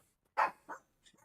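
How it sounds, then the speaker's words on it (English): Small dog named Kodak barking twice in quick succession, close by, followed by a faint yip or whimper, with no talking. "That is the dog that I am watching."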